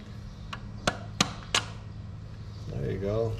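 Sharp metallic taps seat a part into a 1941 Ford 9N tractor engine during a rebuild, about four quick close knocks in a short sequence, followed by a person talking.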